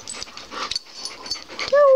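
Several dogs relaxing together indoors in a small area, one giving soft whimpers, sniffs and panting close by before a short high yip or whine at the end.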